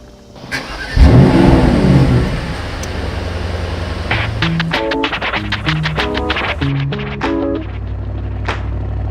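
A 2022 Mercedes-AMG SL pulls away, its engine revving up loudly and then holding a steady drone as it drives off, with music playing over it.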